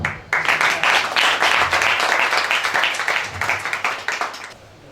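An audience at a community gathering with a local Riau provincial legislator breaks into loud, dense hand clapping that swells quickly, holds steady, then gradually thins and fades out.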